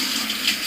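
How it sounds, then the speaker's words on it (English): A brief, steady hiss of tap water runs over a cracked egg yolk being rinsed while making coquito, the flow close and even with no talking. "Run it under a little water,"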